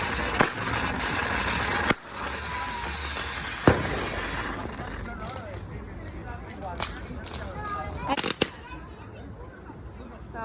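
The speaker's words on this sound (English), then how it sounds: "Oh, this is a fountain. It's gonna explode any second." A firework fountain going off outdoors, a steady hissing crackle with sharp pops and bangs scattered through it, while people talk over it.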